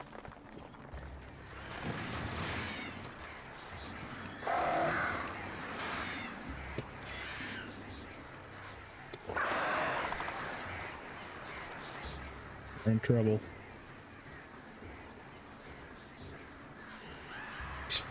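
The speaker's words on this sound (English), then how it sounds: "These fucking birds." Crows caw a few times in a dark rural stretch near a silver mine in Alan Wake (2010), the calls rising in two or three bursts over a quiet game ambience, with someone speaking briefly.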